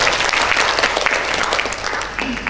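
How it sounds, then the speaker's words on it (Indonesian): An audience at a national church retreat applauds for Marinda, a lively burst of clapping that swells and then tapers slightly, close and fairly loud. "Tepuk tangan sekali lagi untuk Marinda."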